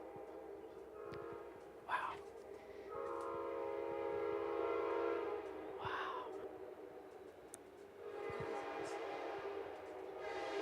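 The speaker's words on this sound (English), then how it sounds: "Eli's putting the microphone out the window so that we can maybe hear the train better" A train passing outside, picked up by a microphone held out of a window, rumbles along continuously with a low steady roar, while brief bright whistle-like bursts rise over it and a voice exclaims faintly in wonder.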